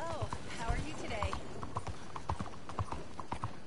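Horse hooves clip-clop steadily in Red Dead Redemption 2, a regular rhythmic beat of fairly close footfalls, with a brief whinny near the start and a voice talking over it.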